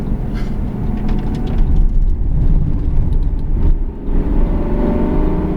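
A car's engine drones and revs on the Bugatti circuit at Le Mans during a beginner driving course, a loud continuous roar with shifting pitch and no voices.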